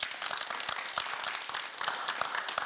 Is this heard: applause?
yes